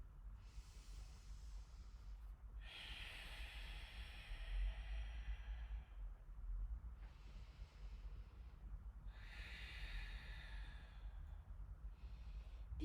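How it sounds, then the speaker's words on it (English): Slow oceanic ujjayi breaths during a yoga class, each long hushing exhale rising and falling in a calm rhythm, about three breaths close to the microphone against a quiet room. "invite in that oceanic sound on your breath"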